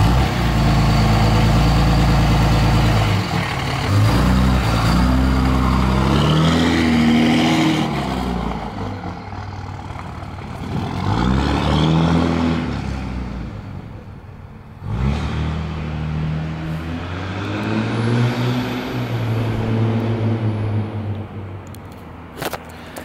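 A diesel Cummins truck with a faulty transmission rumbles while shifted into reverse, its heavy engine note rising and falling through several revving swells, loud and close, with brief voices audible.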